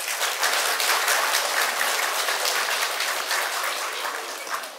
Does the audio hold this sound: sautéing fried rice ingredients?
no